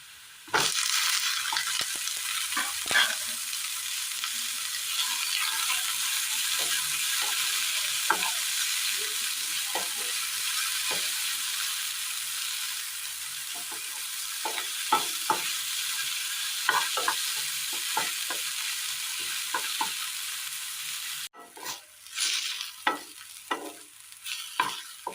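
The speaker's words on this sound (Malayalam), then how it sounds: "തക്കാളി ഉള്ളി നല്ലതുപോലെ ഫ്രൈ ആയി കിട്ടിയിട്ടുണ്ട്" Chopped tomato and onion fry in oil left from frying beef, giving a loud, continuous sizzle with repeated stirring scrapes and clatter, a short break near the end, then more stirring, no talking.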